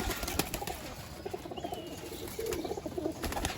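Pigeons kept by a fancier cooing softly and repeatedly at a distance, low murmuring calls over faint background noise.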